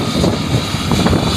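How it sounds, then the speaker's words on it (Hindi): A helicopter carrying politician Sachin Pilot lands at Khedli, its rotors throbbing loud and close in a continuous roar. "तो सचिन पायलट का यहाँ पर हेलीकॉप्टर लैंड लो साहब।"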